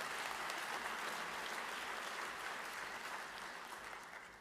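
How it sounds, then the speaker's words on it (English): A school-auditorium crowd gives a long, steady round of applause for elementary school Teachers of the Year at a county Teacher of the Year ceremony, dense and even before slowly tapering off. "let's give one more bigger round of applause for all of our elementary school Teachers of the Year"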